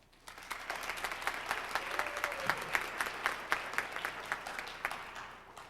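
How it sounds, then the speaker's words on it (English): An elementary school drama club audience claps for the parents before a play, with steady, full applause building quickly and holding strong for several seconds before tapering off. "Let's give a round of applause for the parents"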